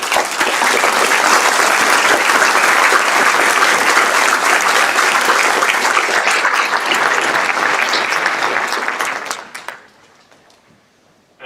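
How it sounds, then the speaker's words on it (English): Graduation ceremony crowd at St Nicholas applauding the trustees, a dense sustained round of clapping that holds for about nine seconds before quickly thinning out and fading. "could we thank our trustees with a round of applause"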